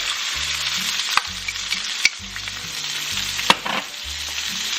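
Chopped onions, celery and carrot sizzle loudly in a pan over medium heat for braised beef short ribs, a bright continuous hiss broken by rhythmic stirring scrapes and a few sharp utensil clicks, with no voices.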